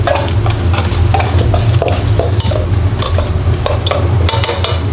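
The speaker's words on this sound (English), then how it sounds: "So pasta, we're just going to work the pasta through" Spaghetti being stirred and tossed through pulverised zucchini in a hot pan, a loud, steady wet scraping and sizzling with frequent clinks of utensil against the pan, no voices.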